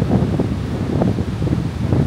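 Wind at a seaside campsite near Tuja, Latvia, buffets the microphone as a steady, gusty low rumble that fills the whole moment, with no voices.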